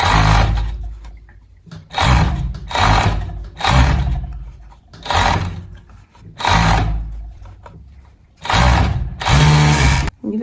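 A sewing machine stitches slowly through the thick fleece cuff of a sweatshirt, running in six or seven separate bursts of about a second each, loud and close, with short pauses between them.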